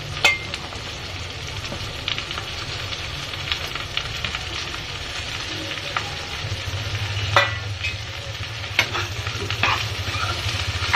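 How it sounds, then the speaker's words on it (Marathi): Okra fries in a hot pan with onion, chilli and curry leaves, giving a steady close sizzle broken by scraping stirs and occasional sharp clinks of the spatula against the pan. "तर मी ह्याच्यात ही भेंडी टाकून घेते"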